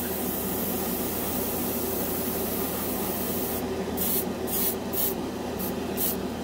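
Airbrush hissing a steady stream of air to flash dry metallic craft paint on a scale model, a constant close spray with several brief bursts cut in toward the end.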